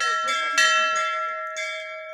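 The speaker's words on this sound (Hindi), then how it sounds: "घंटी के आवाज़ आप लोग सुनाई देत वही" A temple bell rings at Mahadev Ghat temple in Mahasamund, two clear strikes a second apart, each leaving a long bright ringing tone that slowly fades.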